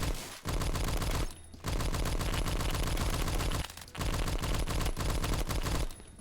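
Sustained bursts of MG3 machine gun fire in the Roblox game Phantom Forces, loud and continuous, broken by a few brief pauses between long volleys.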